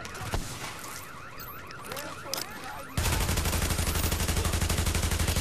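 Rapid submachine gun fire in The Division, a dense steady burst of evenly spaced shots that starts abruptly partway through and runs loud to the end, preceded by clattering game action and effects.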